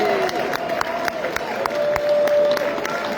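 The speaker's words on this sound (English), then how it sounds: "Can we have plenty of clapping for our Best in Show, Reserve Best in Show, Third in Show, and Fourth in Show?" Audience applause at a terrier dog show, steady sustained clapping from a crowd with sharp individual claps standing out, moderately loud and continuous.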